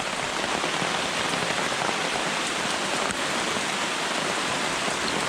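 Heavy rain pours down in a forest, a dense, steady hiss of drops striking leaves and surfaces close by, continuous and even throughout with no voices.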